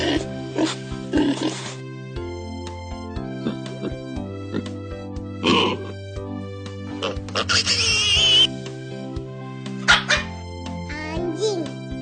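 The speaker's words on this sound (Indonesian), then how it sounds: "Babi." A pig oinks in a few short bursts over a steady children's music backing, mixed with other farm-animal calls in a farm animal naming lesson.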